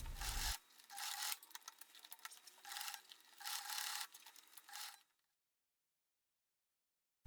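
A sewing machine stitches the sides of a fabric bag in four rhythmic bursts of rapid needle chatter, separated by short pauses, before falling silent.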